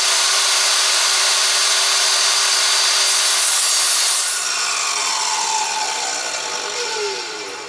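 A power saw rips through half-inch plywood with a loud, continuous rasping whine up close, the tone shifting and easing toward the end of the cut.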